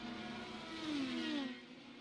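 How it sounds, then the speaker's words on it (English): IndyCar race cars at Zolder in iRacing sweep past in a single drawn-out engine note that rises and then falls away, loud and continuous for about two seconds. "Hearing some cars coming to pit road."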